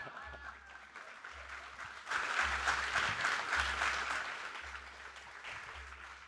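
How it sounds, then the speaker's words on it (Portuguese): Applause from a live audience at a book fair talk show, clapping swelling suddenly and staying loud before easing slightly, with low thumps and some voices underneath. "queria pedir uma salva de palmas para esses craques, 2 craques."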